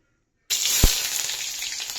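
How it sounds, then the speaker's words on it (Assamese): Sliced onions drop into hot oil in a home kitchen, and a loud, close sizzle bursts in suddenly after a short silence. The bright frying hiss then holds steady to the end. "এতিয়া তেলটো পকিল ধুনীয়াকৈ পিঁয়াজখিনি দি দিওঁ"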